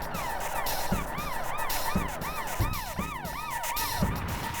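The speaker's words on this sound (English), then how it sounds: "He no sooner activates his lights and siren" A police car siren wails steadily with a rising and falling yelp, loud and close, over a rumbling engine and traffic backdrop during a patrol stop on a highway.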